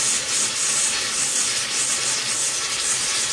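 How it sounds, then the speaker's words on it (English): Steam hisses steadily and loudly from the released pressure valve of a pressure cooker sitting in a sink, a continuous close rushing sound. "Lots of steam."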